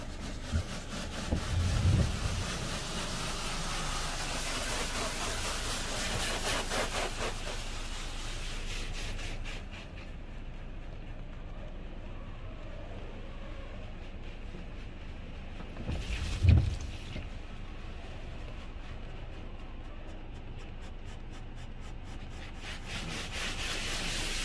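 A Hydrospray Rainmaker automatic car wash running, giving a steady hissing spray and rushing water wash throughout, with a couple of brief louder thumps along the way.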